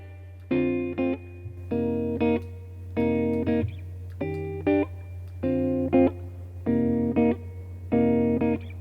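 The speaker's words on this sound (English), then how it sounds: "So for amp, let's use the Boutique British amp." Electric guitar played through a Boutique British amp model in Logic with bass and treble cut, mids raised, presence lowered and reverb up, strumming repeated chord stabs in a steady rhythm with short gaps, over a low steady hum.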